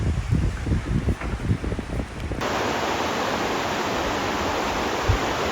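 The Similkameen River flows past in a steady, close broadband rush; a rougher, uneven stretch of water noise gives way to a smooth continuous hiss that holds for the rest of the clip, with no voices.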